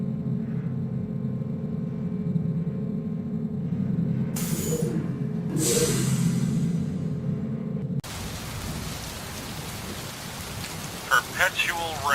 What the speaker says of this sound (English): Perpetual rain.